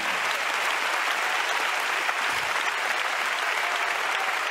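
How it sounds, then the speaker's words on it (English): A church congregation claps hands together in a steady, even wash of applause that stays uniformly loud throughout, with no voices standing out. "Let's clap our hands."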